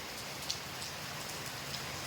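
Steady rain falls at night, a dense even patter with a few louder drops standing out, soft and continuous with no voices.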